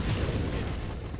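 Dense overlapping explosions from the space shooter game Nova Drift form a continuous loud rumbling, crackling wash over a short stretch.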